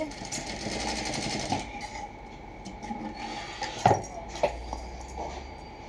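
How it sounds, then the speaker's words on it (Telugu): A sewing machine stitching piping on a plain blouse, running in short bursts with pauses and a few sharp clicks, heard close up. "ఇలానే చివరి వరకు మనం వేసుకోవాలి. చివరిని మళ్ళీ లాక్ స్టిచ్ అనేది మనం వేసుకోవాలి."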